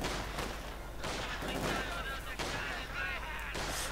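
Infantry firefight in Company of Heroes 2, a World War II strategy game: scattered rifle and small-arms shots crack in quick bursts among distant battle noise.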